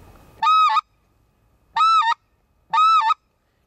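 Three clear, loud double-yodel honks made on a goose call imitating a white-fronted goose, evenly spaced and heard alone.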